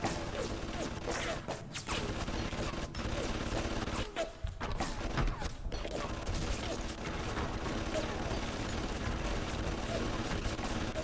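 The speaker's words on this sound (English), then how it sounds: "Oh my god, they're gonna be shooting each other for days." Turrets in Bioshock firing at each other nonstop, a dense, loud, continuous rattle of gunfire with mechanical clatter, and a voice talking over it.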